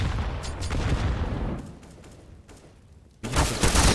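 Gunfire from the P250 pistol in Counter-Strike on the Inferno map comes as loud crackling bursts with a quieter lull in between, then a sharp burst again near the end.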